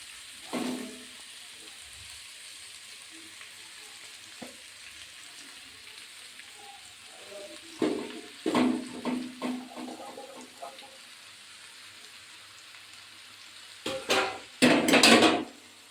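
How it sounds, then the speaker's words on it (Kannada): Ragi vermicelli tipped into a pan over tomatoes, with light frying crackle and scattered clinks and scrapes of utensils, building into louder bursts of stirring and sizzling near the end. "ಎರಡು ನಿಮಿಷ ಫ್ರೈ ಆದರೆ ಸಾಕು ಈಗ ಶಾವಿಗೆ ಹಾಕ್ತಾಯಿದ್ದೀನಿ"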